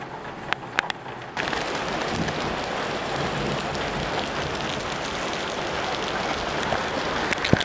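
Heavy rain pours down in a dense, steady hiss after a quieter opening, with faint thunder rumbling beneath it.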